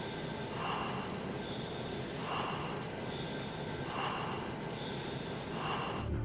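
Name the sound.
Raiden breathing through mask in Metal Gear Solid video game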